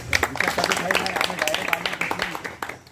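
An audience at a World Indigenous Day event in Maharashtra claps together, a dense, steady patter of hands over several seconds, mixed with voices and fading toward the end.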